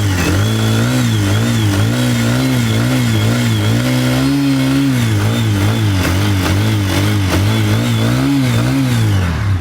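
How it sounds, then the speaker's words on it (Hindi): A TVS Apache RTR 160 2V motorcycle engine runs loud and close, holding a steady throb with rhythmic blips of revving throughout, and no voices over it. "एक बार गाड़ी को स्टार्ट करके आवाज़ सुन लेते हैं किस तरीके से होने वाली है गाड़ी की"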